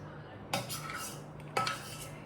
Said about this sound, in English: Okay, now we are adding some curd.